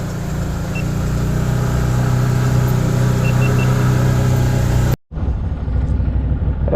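A 2022 Can-Am side-by-side runs off-road in 4-wheel drive, giving a loud, steady engine drone and rumble that drops out briefly near the end, then resumes.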